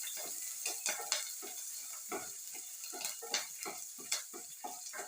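Curry leaves and spices crackle and fry in hot oil for a yogurt curry, a faint, continuous sizzle broken by small pops and the light scrape of a stirring spoon.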